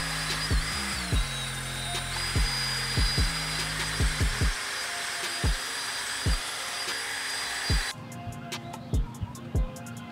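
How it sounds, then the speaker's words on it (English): A power tool cleaning up a car wheel hub on a WRX STI during a brake upgrade, a steady whining drone with repeated sharp scraping hits, then the motor cuts off. "I'm gonna go and clean up that hub really quick."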